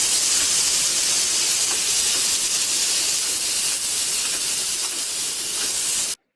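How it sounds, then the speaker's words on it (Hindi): Tomatoes sauté in a pan over a medium flame, giving a loud, steady, continuous sizzling hiss close by that cuts off abruptly at the end, with no talking. "अब इसमें हम टमाटर डाल देंगे और थोड़ा देर इसको सौटे कर लेंगे टमाटर डाल कर."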